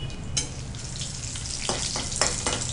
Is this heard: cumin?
yes